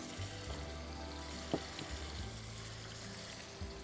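Ginger and garlic paste sizzling in a hot pan for chicken haleem, a steady broadband frying hiss with low hum underneath and one brief clink partway through, no voices.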